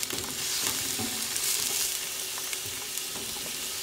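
Mushrooms fry in oil in a pan, a steady close sizzle and crackle with faint stirring scrapes, continuous and fairly quiet, with no talking.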